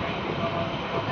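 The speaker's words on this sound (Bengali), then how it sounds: "গাড়ি স্লো হয়ে গেছে ট্রেন।" A train slows as it pulls into a station, a steady broad rumble of wheels and carriages running without a break under faint voices.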